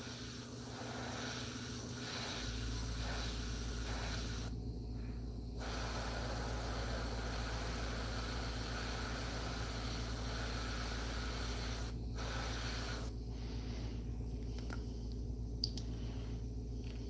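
Paint is sprayed onto a Nightcrawler model piece in a steady, soft hiss. Short sharper bursts mark the trigger being pulled and let go, with no talking.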